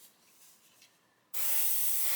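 An airbrush fitted with a 0.3 needle sprays acrylic paint, starting abruptly after a quiet pause and continuing as a steady, loud, fine hiss close to the microphone.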